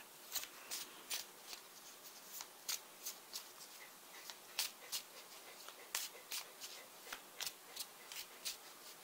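Tarot cards shuffled by hand nearby, a quiet, steady series of crisp riffling snaps and soft slaps repeating throughout without speech.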